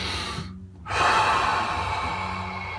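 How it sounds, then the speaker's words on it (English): One deep breath drawn in while leaning against a wall into a calf stretch, a short pause of near silence and then a clear, breathy inhale that holds for nearly two seconds, close to the mic. "I inhale"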